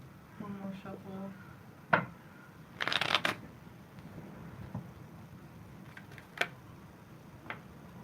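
A tarot deck is shuffled in a quiet indoor room, with one dense riffle burst and a few light card taps and clicks around it, close by, while a voice speaks softly.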